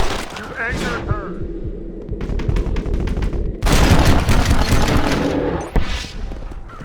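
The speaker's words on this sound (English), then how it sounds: "A bear! Shoot it! Shoot it!" Gunshots ring out at a bear in the video game Red Dead Redemption: loud bursts of rapid fire and booms come in waves, with a character's voice speaking over parts of the shooting.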